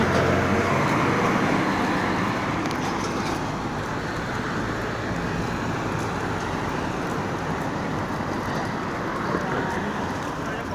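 Steady, dense street traffic rumbles nearby, with a bus's engine and road noise holding constant throughout, no clear stop or brake hiss standing out.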